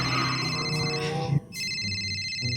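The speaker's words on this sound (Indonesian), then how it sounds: "Sebentar, Boy. Ya. Telepon dulu." A telephone rings with steady electronic tones that break off briefly and then resume, clear and close with little else around it.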